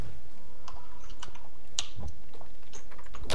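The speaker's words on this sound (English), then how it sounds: "that's pushing the keyboard with your face" A computer keyboard mashed with someone's face at a gaming event, giving scattered, irregular clicks and key taps of varying loudness over quiet room noise, with no talking.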